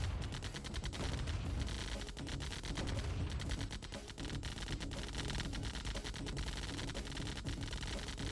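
Turrets firing in the real-time strategy game Command & Conquer Tiberian Dawn Remastered during a tournament match, a dense, unbroken barrage of rapid gunfire and impacts that stays loud and busy throughout.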